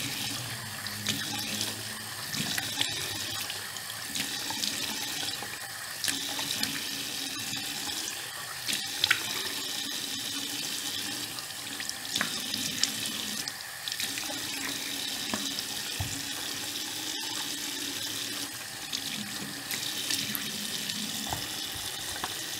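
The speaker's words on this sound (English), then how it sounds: "I'm just going to wash my face and show you guys." Water runs steadily from a bathroom sink tap during face washing, a continuous close splashing hiss with small shifts as hands move through the stream.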